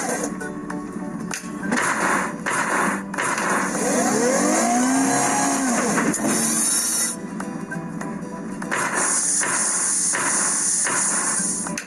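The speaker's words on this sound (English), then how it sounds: "Let's hammer piles for the station building." A toy pile driver in a railway building game hammering piles for a station, with steady loud mechanical clatter, repeated knocks and a whining engine tone running continuously throughout.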